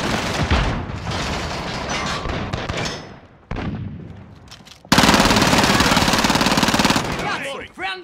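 A stun grenade is thrown during a Modern Warfare multiplayer match, amid rapid automatic gunfire and booming blasts, with a sudden loud burst midway that rings on for a couple of seconds before cutting off; voices call out under the gunfire.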